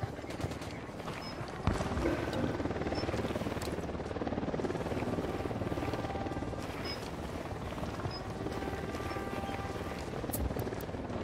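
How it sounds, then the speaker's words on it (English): In the shooter game Ghost Recon Wildlands, a helicopter approaches as a continuous low rotor rumble under dense battle noise with scattered gunfire cracks throughout. "Helicopter incoming."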